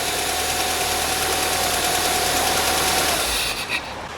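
An Opel Astra engine idles steadily after a timing belt replacement, a close, even hum with a faint whine that holds the whole time before easing near the end.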